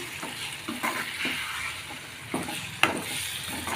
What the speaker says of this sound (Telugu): ఆయిల్ పైకి తేలితే పోపు తాలింపు అయిపోయినట్టునండి